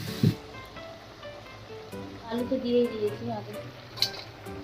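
Eggplant fritters (beguni) fry in hot oil in a home kitchen, a soft steady sizzle with occasional stirring clinks while a person talks over it.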